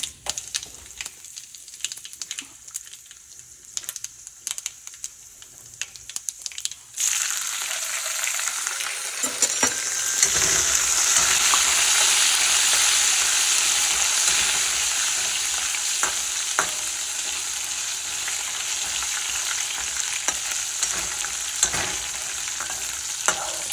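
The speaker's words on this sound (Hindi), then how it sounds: "इसी में ही कड़ी पत्ता और मिर्ची डालना है" Cumin, curry leaves and chillies dropped into hot oil: quiet light crackling first, then a sudden loud sizzling surge that roars and slowly settles into a steady, busy spitting fry with scattered pops.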